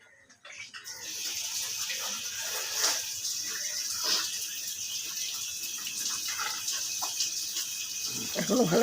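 Curry gravy for an egg garlic dish simmering in a pan, a steady close hiss of gentle bubbling with small pops throughout, with some faint background voice.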